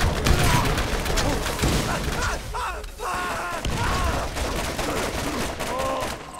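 Dense, continuous gunfire and explosive bursts from a Borderlands co-op firefight fill the clip, a loud busy mix with a short dip in the middle and occasional voices under the shooting.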